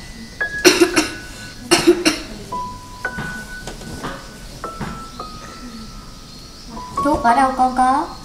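A mother coughs in a school skit by lower secondary students. Several sharp, harsh coughs come in bursts, with a few lighter clinks between them and a rougher flurry of coughing near the end.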